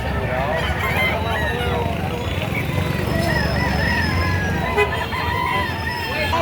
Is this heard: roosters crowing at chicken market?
yes